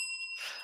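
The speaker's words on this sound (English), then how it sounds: "I just like hitting that bell now, so I'm going to keep saying it." A single bright strike on a bell rings out with sustained, steady tones that fade after a brief burst of added noise, close and fairly loud, with no talking.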